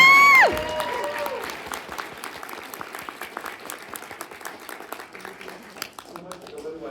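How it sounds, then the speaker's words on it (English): A comic con Q&A crowd in El Paso bursts into steady applause after a short whistling cheer, the clapping holding for several seconds before slowly thinning out. "Round of applause for Chris."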